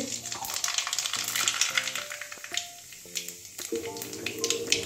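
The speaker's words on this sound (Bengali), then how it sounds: "তেল গরম হয়ে গেছে, ফোড়নে কালো জিরে দিয়ে দেবো" Black cumin seeds hit hot oil for tempering, setting off a loud, crackling sizzle that spits and pops up close, with tonal squeaks from a utensil or pan mixed in over the frying noise.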